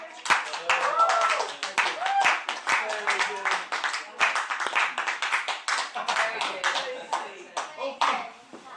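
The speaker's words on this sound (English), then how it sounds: "take your well-deserved round of applause for having it" Small audience at a magic show in Appin clapping in loose, uneven bursts, individual hand claps clearly separable and close, with a voice and chatter heard among them.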